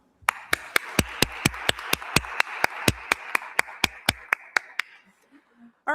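A small audience at a talk on the state of child care claps in a sparse, steady rhythm of sharp individual claps that fades out after about five seconds.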